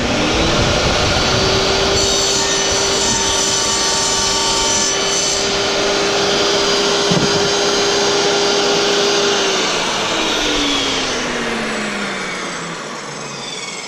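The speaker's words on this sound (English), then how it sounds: "I'm just gonna use a table saw for this." A table saw chops through laminate flooring for a stair nose or end cap, giving a loud, steady, close whine with a sustained tone that runs for several seconds before trailing off as the blade winds down.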